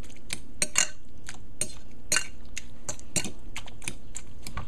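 Roasted tomato salad being stirred and mixed with a utensil, giving a string of sharp clinks and scrapes against the bowl in an irregular rhythm, close and fairly quiet over a steady background hum.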